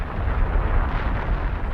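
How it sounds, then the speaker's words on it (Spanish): A continuous deep roar of the Krakatoa volcanic eruption, a thunderous blast of magma tearing through rock at the surface, sustained and heavy in the low end without a clear onset or break. "Cuando el magma explotó en la superficie, arrasó toneladas de roca con una explosión atronadora."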